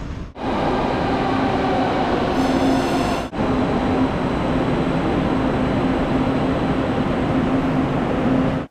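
Riding aboard a Tren Urbano metro train in Puerto Rico: a loud, steady rumble of wheels and motors fills the car, with a sharp brief break partway through and a faint tonal whine beneath.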